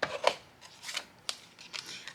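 A scissors handle rubs and scrapes across folded card stock while burnishing a crease during card making, with short, sharp scraping strokes and quiet gaps between them.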